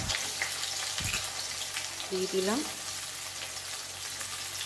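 Sliced onion dropped into hot cooking oil fries with a steady, moderately loud sizzle throughout, broken by a couple of brief clinks and faint background voices.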